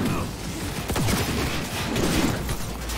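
Enemy gunfire in Cyberpunk 2077 crackles in a dense, continuous volley amid loud combat noise, with rapid shots overlapping close by.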